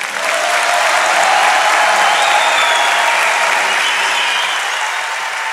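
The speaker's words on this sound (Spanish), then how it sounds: "Aplausos para Juan." A theatre crowd at a live comedy show applauds for a man named Juan, sustained loud clapping from a full house that swells slightly and then holds steady across the whole stretch.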